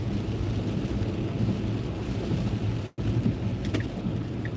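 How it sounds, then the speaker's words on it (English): Mixed rain and snow falling during a winter storm near SeaTac, a steady broadband wash of precipitation with a brief dropout midway, continuous and fairly close with no talking. "Already, just that little drop in elevation here, already down into some mixed rain and snow going on."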